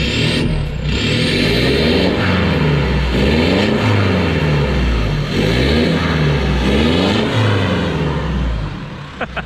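A Mitsubishi Pajero Sport Dakar diesel SUV engine revs repeatedly, rising and falling in pitch over a steady low rumble, loud and close with no talking.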